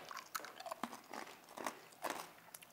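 Bacon brittle is chewed up close, a run of sharp, crisp crunches and bites at an uneven rhythm, each loud crackle followed by quieter grinding, with no talk.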